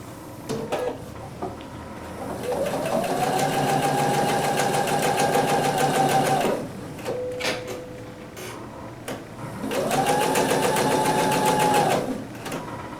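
Sewing machine stitching down the side of a quilt block, two long steady bursts of rapid needle chatter with a rising whine, separated by a short pause, close and loud with no talking.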